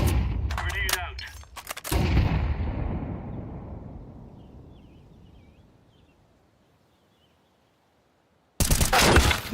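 A thrown grenade detonating in a shooter video game: brief crackling gunfire, then a heavy blast whose rumble slowly fades into near silence before another loud burst erupts at the end.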